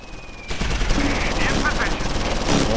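Bursts of machine-gun and rifle fire from the World War II strategy game Close Combat IV in a Battle of the Bulge winter attack, a steady rattling barrage that swells after a quiet start, with faint voices mixed in.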